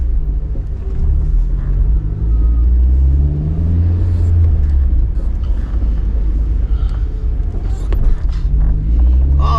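Car exhaust through a homemade twin loop muffler, a close deep rumbling with gentle revving swells and scattered small knocks, no talking.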